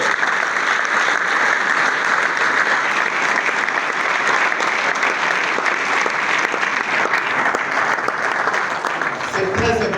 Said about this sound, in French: Cette intervention ne mérite pas ces acclamations